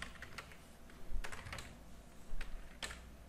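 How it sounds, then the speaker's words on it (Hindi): Quiet typing on a computer keyboard, with irregular soft key clicks and a few louder taps while a name is entered in text software, with no talking. "यहाँ पे मैं अपना नाम टाइप कर चुका हूँ।"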